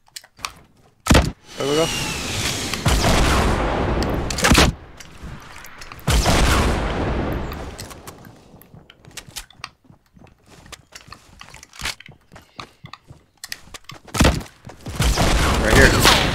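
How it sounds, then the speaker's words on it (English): Fortnite battle royale match with RPG launches and bursts of gunfire, several loud booming blasts and rapid shot volleys in separate bursts, with players talking over the action. "shoot an RPG, we'll rush"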